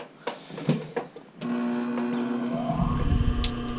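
A home sewing machine starts up after a few light clicks and runs steadily, its even mechanical whir holding for several seconds while stitching lace-up detail on a brief.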